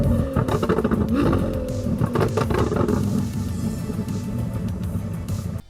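A khaki green wide-arch Lamborghini Aventador engine gives a loud, deep roar that rises and then settles into a rumbling drone, heard close and with no talking.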